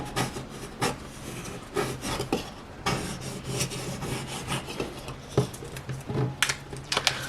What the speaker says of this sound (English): I'm just going to scrape it down.